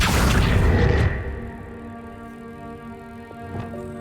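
A magical Accio summoning spell cast in Hogwarts Legacy on PS5: a loud whooshing burst for about a second, then a low resonant hum that lingers, with a faint second swell near the end.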